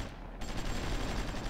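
Distant, muffled gunfire from a Supreme Ruler Ultimate strategy game, a dense steady rumble of shots with no clear gaps, heard alone and fairly faint.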